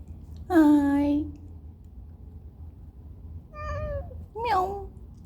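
A cat trapped in a garage meows three times: one long, loud cry, then two shorter, softer calls a few seconds later, over a quiet room hum.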